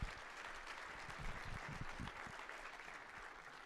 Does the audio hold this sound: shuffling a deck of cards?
no